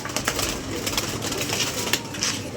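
A pigeon coos close by among other pigeons, with soft repeated calls over a constant rustle and outdoor background noise, and nobody speaks.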